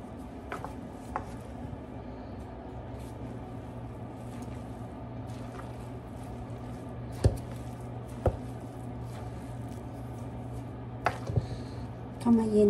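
Lebanese hamburger meat is kneaded by hand in a bowl, giving soft wet squishing over a constant low background hum, with a few sharp taps and knocks spaced through it.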